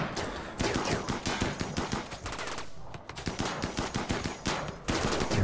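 Rapid bursts of gunfire from a RimWorld battle, dense and continuous machine-gun-like rattling that fills the whole stretch with only brief gaps, loud and close.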